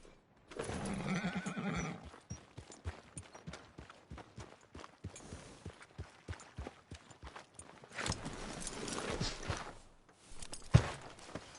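In Red Dead Redemption 2 on PS4 Pro, a horse neighs up close, then walks with a steady run of clip-clopping hoofbeats, later giving a shorter whinny or snort before a sharp thump at the end.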